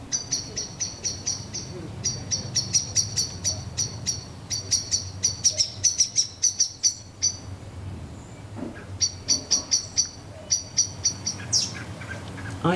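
In a garden, a blackbird fledgling squeaks among the calls of adult blackbirds. Rapid series of high chirps come in repeated bursts with brief pauses between them, close and clear over a soft background hum.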